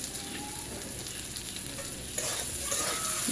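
Cumin powder is stirred in a frying pan, with a steady sizzle under scraping strokes that grow louder and brighter in the last second.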